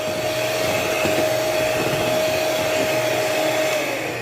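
Electric hand mixer whipping cream for mango ice cream, a continuous steady high motor whine at even loudness throughout, close up with no talking.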